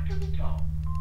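Electronic telephone tones from a phone call in the Sega game Mutant League Hockey, short beeping pitches over a loud, steady low hum, with a longer tone starting near the end.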